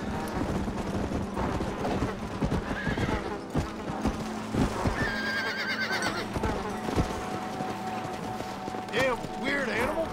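Horse in the Red Dead Redemption: Undead Nightmare video game, loud whinnies and a rapid clip-clop of hooves amid game effects, with someone talking over it.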